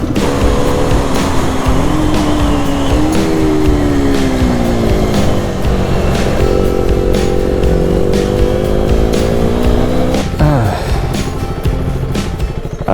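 A KTM Duke 250 motorcycle ridden on an early-morning road, its engine droning loud and steady with rising and falling pitch through gear changes and continuous wind rush.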